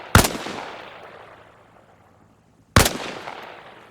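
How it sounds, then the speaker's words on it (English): Two sharp rifle shots from a kneeling position in the Arma Reforger video game, each a loud close crack with a long fading echo tail, spaced a few seconds apart, no talking. "fire from a kneeling position."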